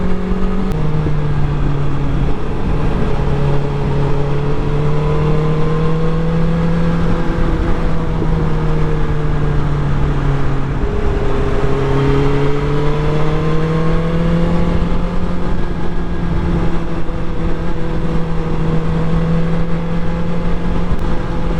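A BMW S1000XR motorcycle cruises at about 52 to 55 mph on Scotland's A82 road near Loch Ness, its engine droning steadily with gentle rises and dips in pitch under constant wind rush.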